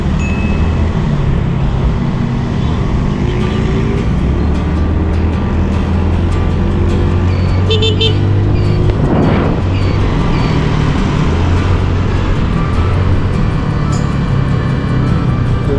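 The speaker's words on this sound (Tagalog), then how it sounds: "Tayo rito kasi may mga lumalabas na truck dito." Steady traffic rumble from trucks and other vehicles near Quirino Grandstand in Manila, a continuous low engine drone with passing vehicles and no speech.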